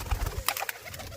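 Pigeons coo in soft, low rounded notes, a few quick murmurs close by, with faint rustling and brief higher chirps overhead.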